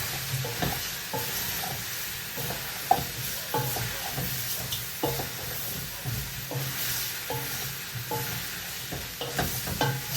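Oxtail browning in a pot, a steady close sizzle with repeated rhythmic stirring and scraping strokes throughout.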